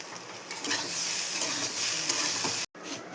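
Capsicum frying in ghee in a pan gives a steady, loud close sizzle with stirring scrapes, then cuts out briefly before the hiss returns.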